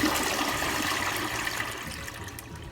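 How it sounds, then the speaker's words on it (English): A toilet fitted with a non-electric bidet attachment flushes with the handle held down, giving a continuous rushing, gurgling wash of water as the tank drains, close and steady, slowly easing off toward the end. "flush your toilet. Hold your handle so that the tank empties as well."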